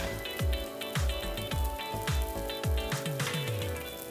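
Shrimp fried rice sizzles in a hot pan, with a steady hiss broken by regular thumping tosses or stirs about every half second, close and fairly loud.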